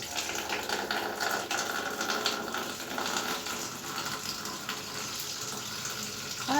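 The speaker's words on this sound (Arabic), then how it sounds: "هزود ميه كمان" Tap water runs into a pot of lentil soup in a steady, close, rushing stream that lasts throughout, with faint clinks and no speech.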